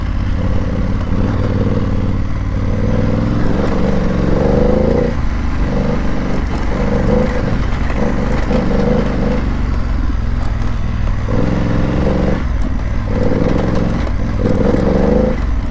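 A BMW F900GS motorcycle rides a rough stretch of Thomas Mountain Road. The engine drones loudly and continuously, its pitch rising and falling with gear and throttle changes, and bumpy clatter and wind run underneath.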